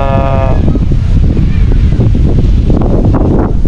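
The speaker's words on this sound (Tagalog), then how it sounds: "ang ganda ng simoy ang hangin" Outdoor breeze rushing hard across the microphone as a loud, continuous rumbling roar, with a short tonal sound at the very start and faint background activity.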